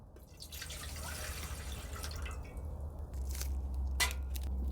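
Water pours into a pot on a wood stove in a steady, close trickle with dripping and splashing that swells slightly toward the end, with no talk.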